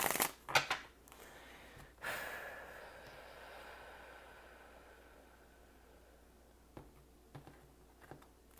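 Tarot cards being shuffled by hand at close range, a few quick riffling bursts followed by a long quiet stretch and faint light card taps near the end.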